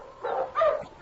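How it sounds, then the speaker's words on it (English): Husky sled dogs arriving without their driver bark and whimper, two loud close bursts of yapping in quick succession with no talk. "Those dogs are coming in alone."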